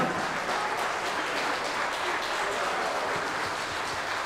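Sustained applause from an audience at a gala concert of a national folk singing competition in Plachkovtsi, Bulgaria, a dense, even wash of clapping filling the whole stretch without break.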